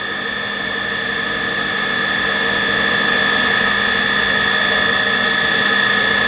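An Eldorado M60 gun drill with counter-rotation runs at a faster feed and higher spindle speed, giving a steady, loud machine drone with sustained high whining tones that holds level throughout, with no talk.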